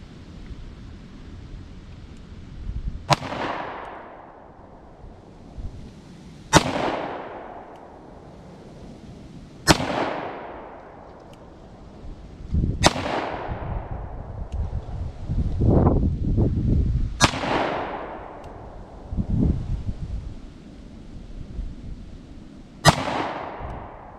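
A CZ 52 pistol fires eight sharp shots at a range, spaced several seconds apart, each a loud crack with a ringing decay, with a little handling noise between shots.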